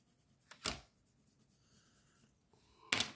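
A felt-tip marker adds orange coloring to paper, with two short, close scratchy strokes about two seconds apart and faint rubbing between them in a quiet room.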